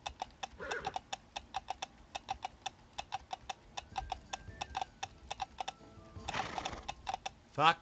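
Pony hooves clip-clopping in the video game CLOP, a quick run of sharp, evenly spaced clicks repeating throughout, fairly close and crisp, with a few louder bursts of game noise near the end.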